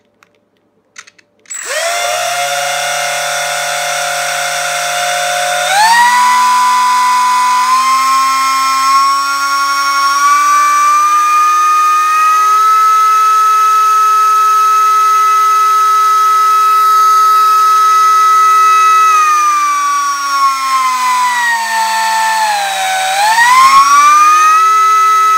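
An E-flite UMX Pitts S-1S RC biplane's electric ducted fan spins up after a couple of clicks into a loud, piercing whine that climbs in steps, holds high and steady, then dips and rises again near the end.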